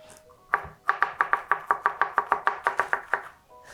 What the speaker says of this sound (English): Since we've got our green onions cut up, I'm going to add those to the bowl.